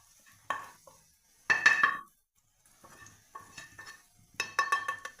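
A spoon scraping and clinking in a pan while chili and turmeric powder are stirred into frying garlic pickle, a few short metallic stirring bursts separated by quiet gaps.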